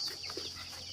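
Desi chickens of a pure native breed cluck softly on a farm as they are let out of the coop, a faint, brief burst of fowl sounds over steady background hiss.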